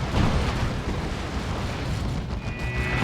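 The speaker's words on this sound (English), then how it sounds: "Good shot from the Blastmaster there." A Blastmaster weapon firing in the strategy game Warhammer 40,000: Dawn of War 2, a loud, dense booming blast with rumbling battle noise that fills the moment without voices.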